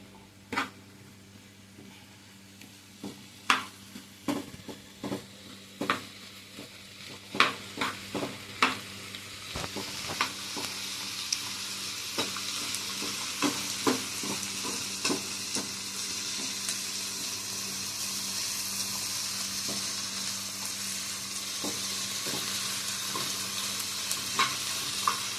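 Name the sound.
coriander and cumin seeds frying in a pan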